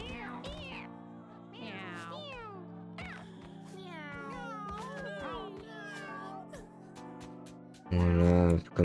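Cartoonish cats meow in Mewgenics, a string of overlapping high, sliding mews and chirps over a steady game music bed, ending in a louder buzzy burst.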